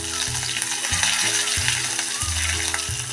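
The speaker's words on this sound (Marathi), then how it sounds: "ते आता मिनिटभर आपण परतून घेऊया" Green chillies, curry leaves and turmeric sauté in hot oil with asafoetida, a loud close sizzle broken by rhythmic scraping strokes of a spatula about once a second, no voices.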